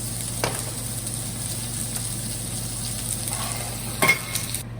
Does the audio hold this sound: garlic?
yes